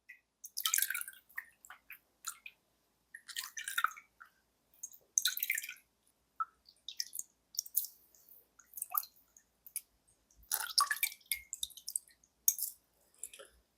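Vegetables for Korean water kimchi (nabak kimchi) are rinsed and squeezed in water, giving irregular bursts of dripping, splashing and squishing separated by short pauses, fairly close and quiet.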